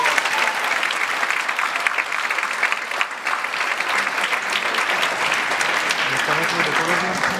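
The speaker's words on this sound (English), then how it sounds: "Let's give her a big round of applause" Sustained audience applause at a government school-funding announcement, a dense, steady wash of many hands clapping that holds loud and even for the whole stretch, with some crowd murmur mixed in.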